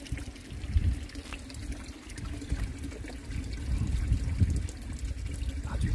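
Spring water trickling and splashing at Jijangam hermitage on Odaesan, a steady low gurgling flow held close and even throughout, with no voices over it.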